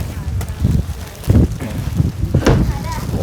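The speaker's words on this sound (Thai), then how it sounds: "โอ้ยลมแท้นี่เนาะ" Strong wind buffets an outdoor microphone while a pickup truck is being loaded for a move to a new house, producing a continuous low roar with gusty surges, under intermittent talk.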